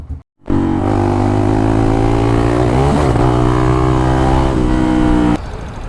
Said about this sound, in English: So I'm starting this bike after a long time.